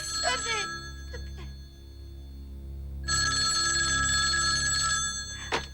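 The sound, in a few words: telephone ringing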